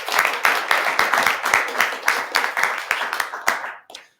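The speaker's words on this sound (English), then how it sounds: "If we can give them a round of applause." Clapping at a Utah state announcement event comes through as distinct, rhythmic hand claps from a small group, close and fairly loud, stopping abruptly just before the end.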